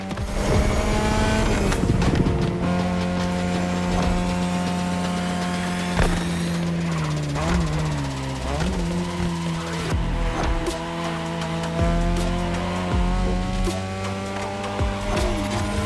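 A third-generation 2002 Mazda RX-7 rotary engine screams through a race in The Crew Motorfest, sustained high-revving buzz with gear shifts and pitch sweeps, tire squeal and passing cars, loud and close throughout.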